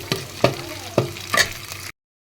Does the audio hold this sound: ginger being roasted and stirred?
yes